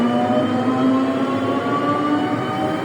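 A steady rumbling drone of an airport metro shuttle train running, with a constant low tonal hum and rolling noise, no voices.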